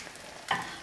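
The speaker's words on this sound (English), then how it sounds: "Okay, we have the 4 pancakes here frying up." Four potato pancakes fry in oil in a small frying pan, giving a low, soft sizzle that swells briefly into a brighter crackle partway through.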